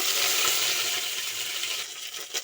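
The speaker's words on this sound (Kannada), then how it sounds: "ಇವಾಗ ಸಾಸಿವೆ ಹಾಕೊಬೇಕು ನೋಡಿ ಸಾಸಿವೆ ಚಟಪಟ ಅಂದಮೇಲೆ ಕರಿಬೇವನ್ನು ಹಾಕೊಬೇಕು" Mustard seeds and curry leaves crackle and sizzle steadily in hot oil, a close, bright frying hiss with small popping bursts and no talking.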